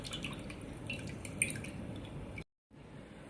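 Whey drips steadily from cheese curd straining at home during Colby-style cheesemaking, a faint, close, continuous patter of small drops with no talking, cut off by a short silence near the end.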